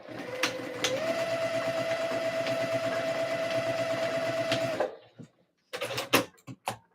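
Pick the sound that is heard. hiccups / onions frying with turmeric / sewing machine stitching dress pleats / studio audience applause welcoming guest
sewing machine stitching dress pleats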